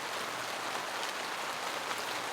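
Heavy rain pours steadily onto a hot tent during a freezing winter storm. The hiss is a dense, even wash that stays constant throughout, with no voices.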